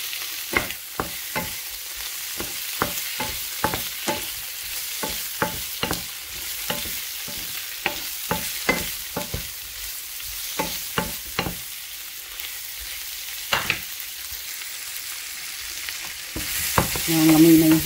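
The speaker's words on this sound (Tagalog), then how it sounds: "Lagyan na natin ng shrimp." Shrimp and mixed vegetables being stir-fried in a pan, with a steady sizzle under repeated sharp scraping and clacking strokes of a utensil at an irregular rhythm, close and fairly loud.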